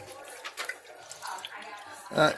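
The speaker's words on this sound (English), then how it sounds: "Just stir it in very gently." Gentle stirring of a liquid mixture being prepared to make ethanol, with soft watery sloshing and swirling that builds to a brief louder splash near the end, with a voice talking over it.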